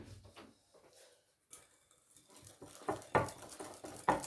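Egg yolks, sugar and warm chocolate being stirred together in a bowl for a homemade chocolate Yule log, faint scraping and clinking of a utensil against the bowl, sparse at first, then louder, quicker knocks toward the end.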